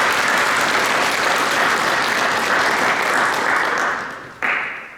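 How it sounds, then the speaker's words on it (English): Audience at a high school National Honor Society induction ceremony claps in a sustained, full round of applause that fades near the end, then briefly swells again before tapering off. "Please join me in thanking them with a round of applause."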